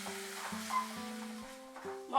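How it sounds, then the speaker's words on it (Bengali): A spice paste with amchur and a little water frying as it is stirred, soft sizzling with faint scraping, behind a steady tonal hum that pulses in a regular pattern. "এবার এই মশলার মধ্যে আমি 2 টেবিলস্পুন জল অ্যাড করে মশলাটাকে কষিয়ে নেব।"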